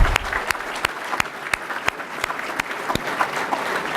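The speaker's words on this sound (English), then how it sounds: "Let's give them a round of applause," An audience applauds board members at a DuPage County gathering, a steady burst of clapping from a roomful of people with distinct sharp individual claps standing out, sustained for several seconds.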